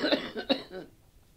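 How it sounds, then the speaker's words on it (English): A person with breathing trouble coughs in a short burst of three or four harsh, close coughs that trail off into quiet. "I know it will end with a huge explosion of coughing."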